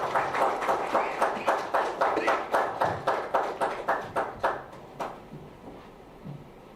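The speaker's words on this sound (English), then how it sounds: "Please give them a huge round of applause as we welcome them on the platform." An audience claps for panelists taking the stage at a sustainable certification handbook launch event, a rhythmic burst of about a dozen sharp, evenly spaced claps that thins out and fades near the end.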